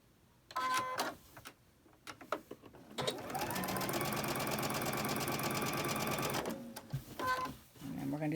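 A sewing machine stitches fabric for a bowl cozy with a leader ender, running in short bursts, then one long steady whirring, rattling run, close up, with brief quiet gaps between.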